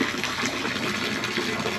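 Fresh water rushing steadily into a boat's water system, a continuous loud hiss and gurgle of flowing water close by, with no talk.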